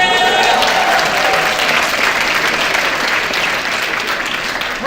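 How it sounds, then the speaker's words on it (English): Keynote audience giving itself a round of applause, a loud, full, continuous clapping crowd close by, with a few whoops or cheers near the start and the clapping staying dense throughout. "You believe to give yourself a round of applause?"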